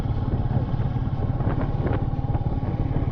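A Royal Enfield Meteor 350 motorcycle engine thrums at a steady, low pulsing rhythm while riding, close and continuous with faint wind noise.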